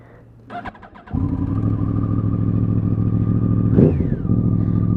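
A Yamaha R1 crossplane-crank motorcycle engine cranks with a brief clatter, catches, then runs with a loud steady roar and one quick throttle blip near the end.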